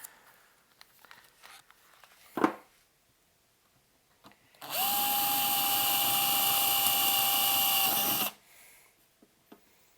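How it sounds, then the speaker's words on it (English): A power drill bores through a metal chassis panel for a tube phono preamp, one steady whining burst of about four seconds, close and loud, with a few handling knocks before and after. "Slow at first to make sure it's not walking. And then drill through."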